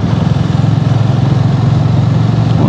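A motorcycle engine runs steadily on a road trip toward Alibag, a loud, close, continuous drone with an even rumbling pulse and no voices.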